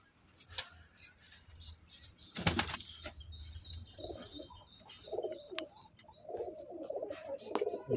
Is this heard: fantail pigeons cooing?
yes